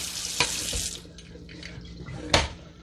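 Tap water running in a sink, flushing through sunflower microgreen seeds: a steady hissing stream with a couple of brief splashes, no talking.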